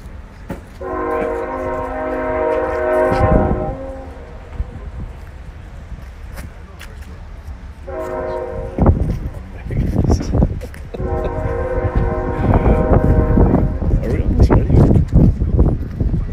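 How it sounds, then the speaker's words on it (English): Near a bricklaying competition in Wisconsin, a train horn blasts three times in long bursts as a train rumbles past nearby, with people talking in between. "Oh, we've got a train."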